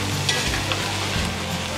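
Smoked pork loin pieces and bacon sauté in a pan, producing a dense, even sizzle and crackle, loud and close, with faint stirring and no speech.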